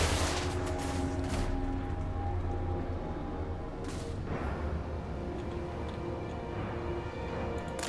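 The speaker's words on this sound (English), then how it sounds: "Shoot them!" Massed gunfire crackles in a Total War: Warhammer 3 battle: a dense, continuous fusillade of distant musket or rifle volleys over a steady rumbling battlefield bed, with occasional sharper reports standing out and no voices.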